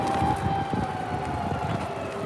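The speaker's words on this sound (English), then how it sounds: "You can hear the sirens going by." A wailing police siren sounds from a short distance in Shirokanedai, Tokyo, steady over a low hum of city traffic, with no voices.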